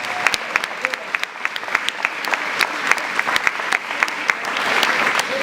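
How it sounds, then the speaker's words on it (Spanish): Church congregation applauding during a Sunday morning service, a steady wash of many hands clapping with sharper individual claps standing out, fairly close and continuous throughout. "Así que denle un aplauso al Señor en esta mañana por lo que Él va a hacer con nosotros."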